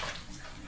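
A short burst of splashing, rushing water at a seaside resort at night, moderately faint and noisy, lasting under a second with no voices.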